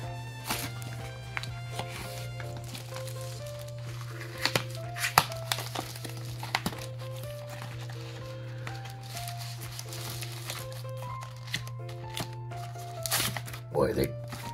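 Small envelopes and birthday cards being wrestled out of tightly wrapped packaging, with crinkling, rustling and tearing sounds scattered through the clip over a steady low hum.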